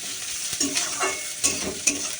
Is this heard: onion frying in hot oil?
yes